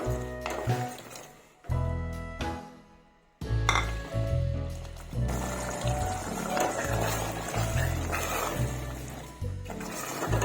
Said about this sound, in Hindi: इसी पॉइंट पर मैं इसमें मटर शामिल कर दूंगी।